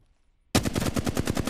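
The Flatline rifle in a video game opens fire after a short silence, a loud, rapid burst of evenly spaced automatic shots heard up close for about a second.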